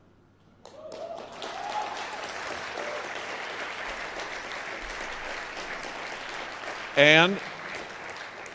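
An audience at a speech breaks into sustained applause that builds after a brief pause and rolls on steadily, with a short loud burst partway through.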